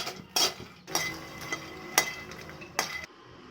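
Makhana (fox nuts) frying in a pan on low flame: short bursts of stirring scrapes and rattles, about five spaced strokes against a quiet, faint sizzle, with no talking.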